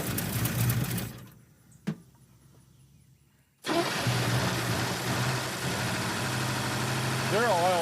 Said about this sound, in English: That doesn't sound like a very good engine.